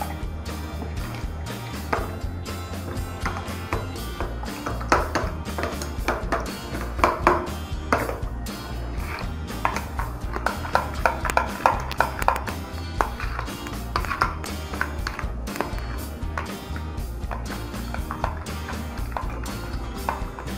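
A spoon whisks mayonnaise and vinegar together in a bowl, giving a busy run of clinking, scraping and tapping strokes that carries on steadily throughout.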